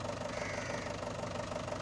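A Mahindra 585 DI Bhumiputra tractor engine runs steadily at a close distance, giving a continuous, even drone with a slight knocking texture and no talk over it.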